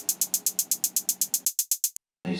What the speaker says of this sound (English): It's just a hi-hat, so we'll see how the swing affects the sound and how it sounds.